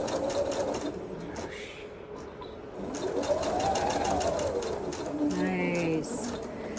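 A sewing machine runs in steady stitching bursts while quilt borders are sewn, with a pigeon cooing nearby and a voice speaking in the background.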